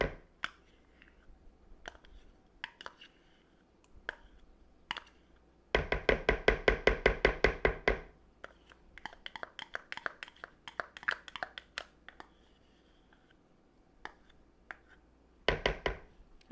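Metal spoon scraping thick sour cream out of its container, a burst of rapid, close scrapes and taps in a steady rhythm, with scattered knocks and clicks before and after.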